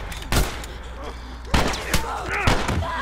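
Gunfire in The Last of Us Remastered video game: a few sharp, loud shots spaced over a few seconds, with a game voice murmuring underneath.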